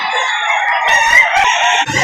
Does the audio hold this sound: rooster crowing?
yes